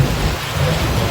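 Heavy rain pounds down during a thunderstorm in Oklahoma, a loud, dense, continuous roar with deep low thunder rumbling underneath throughout.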